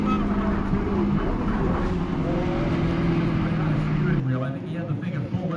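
Race car number 14 with a flat right front tire passes by on the track, its engine droning loud and steady before dropping away near the end, with a commentator talking over it.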